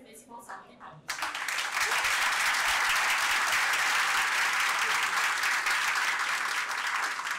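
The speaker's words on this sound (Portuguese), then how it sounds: "Eu gostaria que vocês o recebessem com salva de palmas" Loud, sustained audience applause at a Brazilian LibertyCon conference welcoming a speaker, breaking out after about a second of talk and continuing as a dense wash of many hands clapping to the end.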